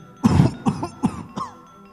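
Four harsh coughs in quick succession, close and loud, each shorter and weaker than the one before, from a woman coughing up blood.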